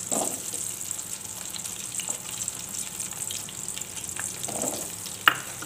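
Shallots and garlic sautéing in a pan for a baby squid sambal, a steady soft sizzle and frying hiss running throughout with light stirring clinks, no voices.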